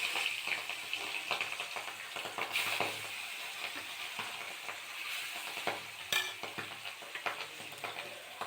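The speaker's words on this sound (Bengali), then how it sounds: "পুরো মাছটা এইভাবে লাল লাল করে ভেজে নিচ্ছি।" A whole fish frying in a pan and being browned red on both sides gives a steady, soft sizzle that runs throughout with small bubbling crackles, fairly quiet and with no voices.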